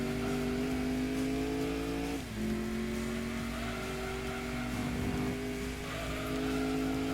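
Race car engine in the Gran Turismo 2 video game, a steady loud drone that shifts pitch once as the car changes gear, with faint tire noise, no talking.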